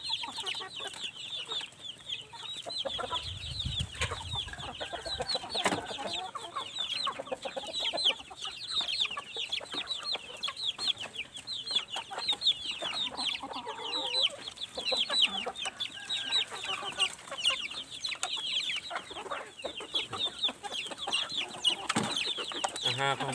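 Farm chickens, including a small group of laying hens, cluck and chatter softly and continuously at a moderate distance, with a few brief louder calls and faint background noise.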